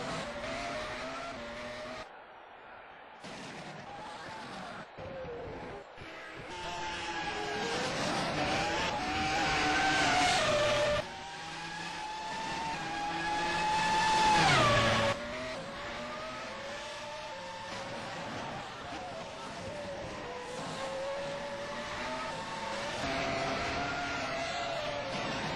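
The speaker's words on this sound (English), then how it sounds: "Van der Linden and Bubicic come out of the pits." Formula sim racing cars in a Bahrain race, exiting the pits in a video game, engines whining and shifting through rising and falling pitches, with several cars overlapping at steady loud volume and no talk.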